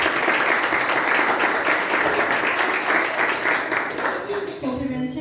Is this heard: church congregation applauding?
yes